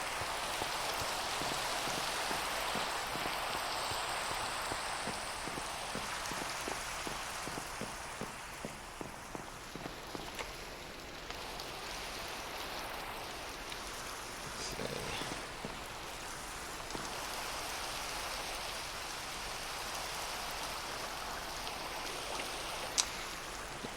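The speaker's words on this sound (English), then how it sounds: "Oh, it's raining." Steady rain in a Minecraft world, a continuous soft hiss of falling drops alone with no talk, holding even throughout with a brief rhythmic patter early on.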